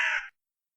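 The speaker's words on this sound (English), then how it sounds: "The crow flapped into flight, ragged-winged, trailing feathers." A single crow gives one loud, harsh caw lasting about a third of a second, alone and close, followed by complete silence.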